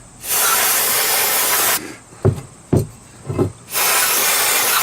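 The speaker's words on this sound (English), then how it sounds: "I'm going to spray a little brake cleaner on them" Long hissing bursts of brake cleaner aerosol sprayed on front brakes of a 2013 Chevrolet Malibu, two sustained blasts separated by a few short clicks and taps, loud and close.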